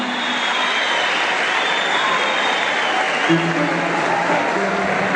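An audience at an event in Manisa applauds, a loud, continuous burst of clapping with a low hum of crowd noise underneath.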